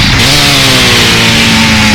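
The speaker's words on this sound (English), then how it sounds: "I apologize about the chainsaw. It gets really loud." A chainsaw from the survival video game Starforge revs loud and steady in a continuous buzzing drone, close and dominant with no talk over it.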